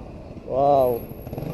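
A motorcycle engine rises and fades as it passes by on a muddy, flood-prone street, peaking briefly in the middle at moderate distance, with faint background noise around it.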